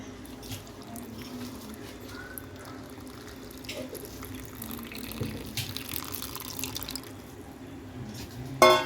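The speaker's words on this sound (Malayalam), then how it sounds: "വെള്ളം ഒഴിച്ചു കൊടുക്കാം" Water pouring into a vessel of rose apple (chambakka) in a home kitchen, a continuous rushing trickle with small splashes and drips, ending in a brief louder clatter.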